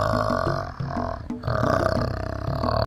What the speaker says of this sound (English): Orangutan.